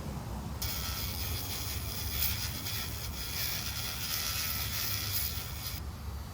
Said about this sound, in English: Grind that down a bit more.